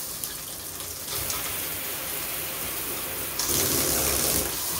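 Water sprays hard from a Waterpik PowerPulse shower head, a loud, steady hiss that gets stronger partway through and again near the end, with no talking.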